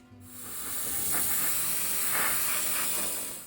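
An airbrush or spray can releases a continuous, fairly close hiss of gloss coat onto a 1/35 Tamiya Sd.Kfz. 251/1 half-track model, swelling in and holding steady for a few seconds.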